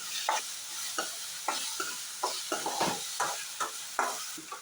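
Ginger garlic paste fries in a pan while a spoon stirs it in regular strokes, each scrape rising in short bursts over a low continuous sizzle, fairly faint and close.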